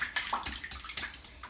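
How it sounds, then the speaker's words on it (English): A baby splashes water in a home bath, making a quick series of sharp, close splashes in an irregular rhythm with brief gaps between them. "he likes to splash"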